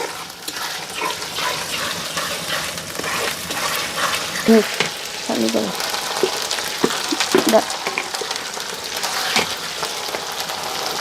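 Cabbage and chicken sauté in a hot pan, a continuous close sizzle broken by scraping and clacking of a stirring spoon, with a few sharp knocks against the pan.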